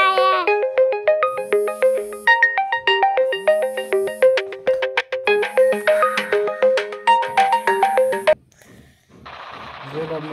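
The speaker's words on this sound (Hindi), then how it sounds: "बाबा किसी का फोन आया" A melodic electronic phone ringtone for an incoming call plays loudly in a repeating pattern of bright tones, then cuts off into quieter background noise.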